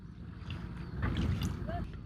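Low rumbling engine and water wash from a ferry boat under way, steady and close, with wind noise and faint background sounds.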